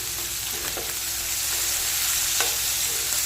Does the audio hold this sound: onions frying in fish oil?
yes